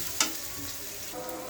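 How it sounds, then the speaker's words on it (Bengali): Chopped onions fry in a pan for a pigeon meat curry, giving a continuous close sizzle, with a sharp scrape of stirring near the start. "পেঁয়াজটা আমি ভালো করে ভেজে নেড়ে চেড়ে ব্রাউন কালারের করে নেব।"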